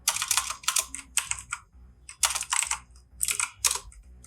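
Fingers type on a computer keyboard while writing CSS code, with clustered bursts of crisp, close key clicks separated by brief pauses.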